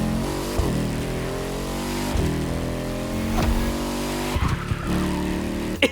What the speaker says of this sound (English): is the 458 with a motorcycle engine in it